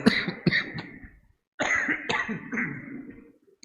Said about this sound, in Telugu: మధ్య మధ్యలో ఈ దగ్గును ఒక దరువు అనుకోండి